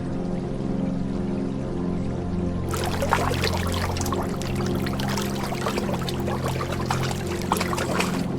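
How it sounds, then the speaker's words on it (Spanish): River water flowing steadily, a continuous broad rushing wash that swells noticeably after a few seconds and then carries on evenly. "El agua del río fluye silenciosamente"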